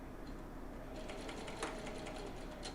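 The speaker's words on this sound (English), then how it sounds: "Sew into place." A sewing machine sews binding onto the neckline of a refashioned men's shirt, a soft steady whir starting partway in and continuing at an even pace, fairly quiet and close.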